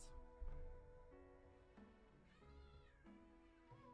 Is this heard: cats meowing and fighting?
yes